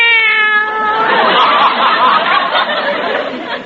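Cats meow in a cage as a radio comedy sound effect. One drawn-out, tonal meow opens the clip, then blurs into noisy, overlapping yowling and caterwauling that carries on loudly for several seconds.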